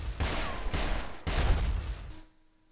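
A flintlock gun in the RELL Seas game fires in a quick burst of heavy blasts, close and loud, then cuts off to near quiet with a faint lingering tone.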